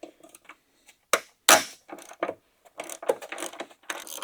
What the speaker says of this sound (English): I'm going to use a ratchet here